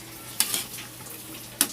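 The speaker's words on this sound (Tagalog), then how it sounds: "Halo-haloin ng konti hanggat na malusaw ang magic sarap" Magic Sarap seasoning stirred into food cooking in a pan, a soft sizzle under two sharp scraping strokes of the utensil, close and fairly quiet, with no voices.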